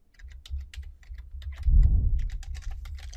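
Fingers typing on a computer keyboard, a quick run of close, crisp key clicks with a slightly heavier thump partway through, no talking.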